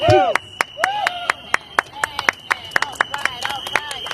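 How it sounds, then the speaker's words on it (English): An audience at a Juneteenth press conference keeps up a sharp, evenly paced clapping, about a dozen distinct hits, with cheering voices and a sustained whistle-like tone running through it at moderate distance. "Keep those applause going for the incomparable Sister Nia 2X with the National Action Network DC chapter"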